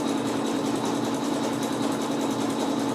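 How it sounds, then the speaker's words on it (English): Steady mechanical whir of a trimmer running along the edge of quilt fabric for a Moroccan Sunset block, a continuous close, even drone with no pauses and no voices. "Lay the trimmer down. Trim off the edge."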